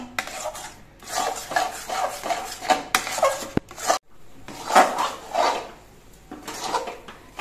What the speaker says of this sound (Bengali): ক্ষীরটা জাল দিতে দিতে কিন্তু একেবারে শুকিয়ে গেছে, কড়াই থেকে ছেড়ে ছেড়ে আসছে